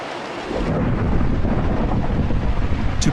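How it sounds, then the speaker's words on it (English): Rain and thunder in a video game: a steady loud rush of rain with deep rumbling swells that starts abruptly after a quiet opening, no voices. "It started raining like something made it rain."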